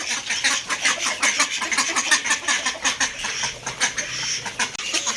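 Busy flock of desi chickens and chicks clucking and chattering continuously, a dense overlapping chorus of short bird calls close by.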